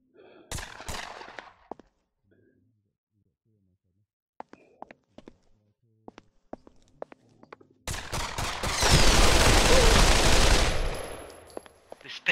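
Machine gun in Pavlov VR, a loud sustained burst of automatic fire roaring for about four seconds near the end, after scattered footsteps, clicks and quiet handling noises.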